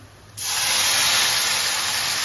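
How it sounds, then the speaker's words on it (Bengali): Water is poured into a hot cooking pot while making potol pulao. A sudden, loud, steady hiss of steam and sizzle starts abruptly and holds at full strength. "4 বাটি জল দেবো।"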